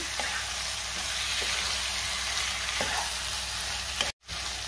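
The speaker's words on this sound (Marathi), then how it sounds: "आता आपल्याला मॅरिनेट केलेली कोळंबी घालायची आणि कोळंबी मी 2 मिनिटं चांगली परतून घेणार आहे।" Marinated prawns sauté with spices in a pan, a dense, even sizzle with a few faint spatula taps, then a sudden brief cut to silence before the frying resumes.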